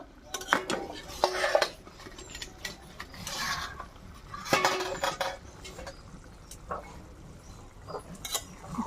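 Metal lid lifted off a pan of loté fish cooking in spicy oil, with several clanks and scrapes of metal cookware spread over the moment, close and moderately loud with quiet gaps between.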